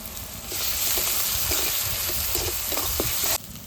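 Ginger garlic paste hits hot oil over fried onions in a pan for a potato curry, giving a loud, steady broadband sizzle with faint scraping stirs, cutting off abruptly near the end.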